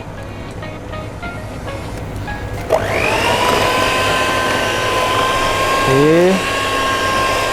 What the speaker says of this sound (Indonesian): kita lanjut mixer lagi